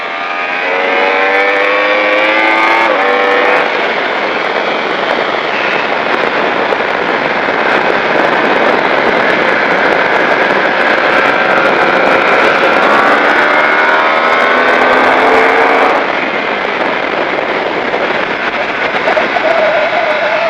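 Racing motorcycle engine on the Magny-Cours circuit, loud and close as it howls through rising gears, with a throttle cut partway through before the revs climb again.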